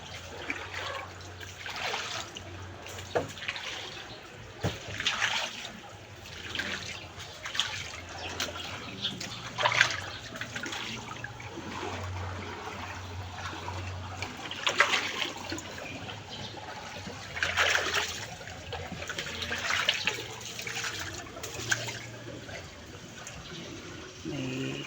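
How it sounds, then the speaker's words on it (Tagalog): High-tide floodwater pours into a house during rain, a continuous rushing and splashing of water with irregular surges throughout, heard close and fairly loud. "Masok na yung tubig namin."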